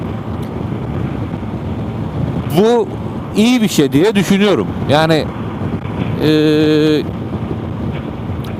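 Strong wind roars and buffets the microphone continuously on a moving Honda Forza 250 scooter near Dikili, İzmir, while a person talks over the steady rushing noise.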